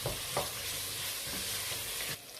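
Meat pie filling seasoned with onion powder is stirred in a pot on the heat, giving soft sizzling with a few scraping strokes, quiet and without talk.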